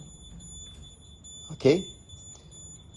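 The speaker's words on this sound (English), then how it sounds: "the RD9100 will get affected by the static and it begins to beep again" An RD9100 radiation detector beeps near static electricity, giving steady high continuous tones throughout while a person speaks briefly over them.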